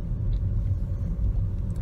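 Steady low road rumble from a car being driven, a continuous close engine and tyre drone with no talking.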